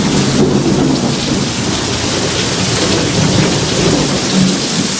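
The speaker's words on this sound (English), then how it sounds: "thunder lightning's getting a little ridiculous" Heavy rain pours down steadily while thunder rumbles through it, loud and close, with no voices.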